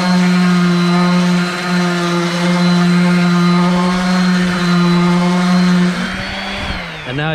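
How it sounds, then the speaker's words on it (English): A power sander works steadily across a fiberglass bike fender, a loud continuous whine with a strong hum that holds for several seconds and then shifts in pitch near the end as the tool eases off. "I want to sand it till it's all uniform looking"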